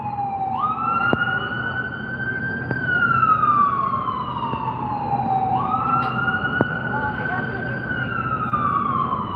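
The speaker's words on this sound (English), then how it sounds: "Ambulance." An ambulance siren wails steadily in long rising and falling sweeps, loud and close, over a low rumble of road traffic.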